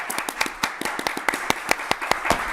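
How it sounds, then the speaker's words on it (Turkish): Scattered hand claps from a TV quiz show studio audience, a thin uneven run of separate claps rather than full applause, moderately loud and with no voices. "Bir de Esra Hanım'ı alkışlar."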